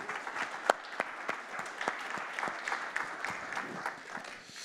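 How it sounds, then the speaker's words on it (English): Audience applause at a corporate tech summit, a dense steady clapping from a sizeable crowd with sharp individual claps standing out, sustained evenly throughout. "let's give them a warm round of applause"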